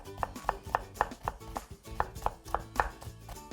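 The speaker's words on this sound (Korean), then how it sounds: "무는 같이 채 썰어 줄 거예요" A kitchen knife julienning radish into thick matchsticks for fresh cabbage kimchi, a steady series of crisp chops striking a cutting board at a brisk, even rhythm, close and clear with no talking.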